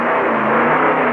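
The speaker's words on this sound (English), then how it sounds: "the racing crews give their engines a final tuning to wring out every last bit of power" A stock car racing engine roars steadily during final tuning before a race, a loud, close, sustained drone with a slight rise in intensity and no talk.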